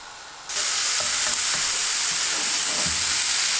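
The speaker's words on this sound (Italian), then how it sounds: "Sbricioliamo le salsicce all'interno della nostra padella senza aggiungere olio né nessun altro tipo di grasso" Crumbled sausage hits a dry pan with no oil and breaks into a steady, bright sizzle after a short quiet start, with a few stirring scrapes and no talk.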